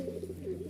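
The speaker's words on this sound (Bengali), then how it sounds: "খুবই সুন্দর একটা কবুতর" A Rajshahi Giribaz pigeon cooing softly nearby, a steady low throaty burbling that pulses gently with no other sounds over it.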